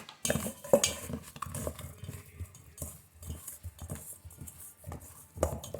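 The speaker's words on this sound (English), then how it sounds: "mix this around with my hand" Black-peppered, seasoned ribs are mixed by hand in a bowl, giving close, irregular squelching and rubbing with light knocks of the bowl, all with no talking.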